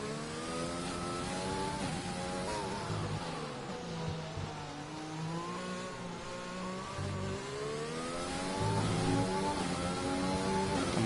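A Formula 1 race car in a video game lapping a Russian circuit, its engine a steady high-pitched whine that rises and falls through gear changes, loud and continuous with no speech over it.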